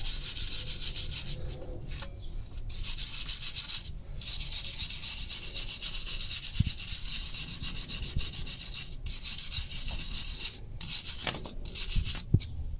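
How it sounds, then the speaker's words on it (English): A wire brush scrubs the hub of a Toyota Aygo during a brake pad and disc change, a steady close raspy rubbing with short pauses, carrying on alone for about thirteen seconds. "I'm just going to go over the hub with a wire brush"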